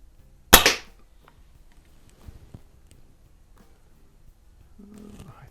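A single sharp crack from a 100-year-old Quackenbush antique air gun fired at a paper target, close and loud with a short decay, followed by quiet handling noises and faint movement.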